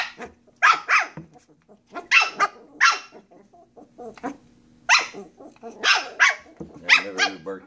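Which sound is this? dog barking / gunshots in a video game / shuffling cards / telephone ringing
dog barking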